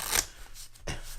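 A deck of vintage Dale Earnhardt USPCC collectible playing cards is shuffled up close, with a quick crisp riffle burst, a brief pause, then a second softer riffle and cascade of cards.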